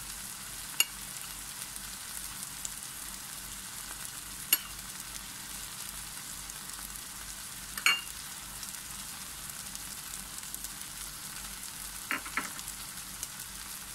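Spicy sausage frying in a pan with chili powder gives a faint, steady sizzle beneath a low hum, punctuated by a few sparse sharp clicks and taps of a utensil, with no speech.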